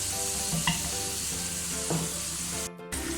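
Beef masala cooking in oil with yogurt for a KPK-style sobat dish hisses in a steady close sizzle, with a few soft stirring scrapes and a brief dip near the end.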